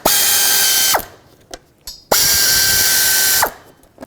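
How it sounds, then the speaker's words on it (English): A power driver with a T30 Torx bit whirs loudly in two sustained bursts as bolts are backed out of the upper cover on a 2001-2007 Volvo V70, each burst winding down with small clicks between, no talking. "I want to start by removing this upper cover here with a T30 Torx bit."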